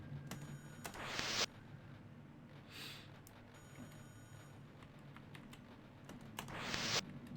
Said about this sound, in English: I'm just typing it out because I can just do this.